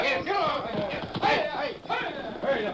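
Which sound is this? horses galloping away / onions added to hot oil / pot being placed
horses galloping away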